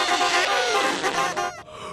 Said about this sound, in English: You may even hear the calls of migrating geese.